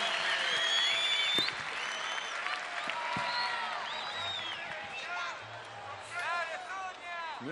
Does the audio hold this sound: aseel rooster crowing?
no